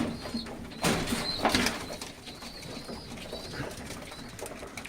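Old Polish pigeons give faint cooing and a brief burst of wing flapping near the start, then settle into a quiet, rustly loft ambience with soft scattered calls.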